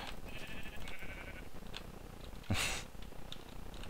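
A sheep in the game Minecraft gives a bleat near the middle, heard under low game background sound along with a few faint bleats before it.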